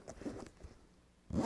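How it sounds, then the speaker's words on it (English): A ballistic nylon bag's zipper is pulled open and closed close up, giving short raspy zips with pauses between them and a louder final zip at the end. "And their zippers, oh, they're just so satisfying to use."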